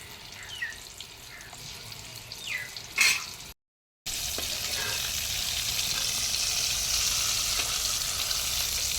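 Suzhiyam sweets frying in oil in a paniyaram pan, a steady broadband sizzle that fills the second half after a few softer splashes and clinks, with a brief gap in the middle.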